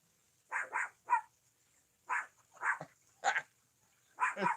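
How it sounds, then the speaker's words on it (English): A dog barks in short bursts, two or three quick barks at a time with pauses between, close by and fairly loud. "the dog's barking at it"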